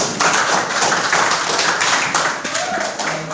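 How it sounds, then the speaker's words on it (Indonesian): Students in a classroom clap together for a classmate, a brisk, close patter of hands that overlaps with some talking and a few dull taps. "Ya, tepuk tangan dulu untuk Suci."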